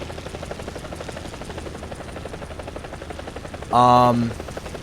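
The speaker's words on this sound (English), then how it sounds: "It really is a tiny little helicopter" A Bo 105 helicopter in the video game War Thunder: a continuous rapid rotor thump drones throughout, then a short loud synthetic tone with stacked harmonics sounds briefly near the end.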